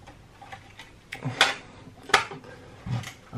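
A LiPo battery connector is plugged into a JJRC Q65 1/10 scale RC jeep, with a few distinct plastic clicks and small handling taps, close and fairly faint.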